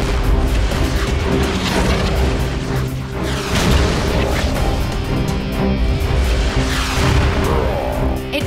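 A cartoon rocket punch fires with continuous roaring blasts and booming explosions, loud and dense throughout with no voices over it.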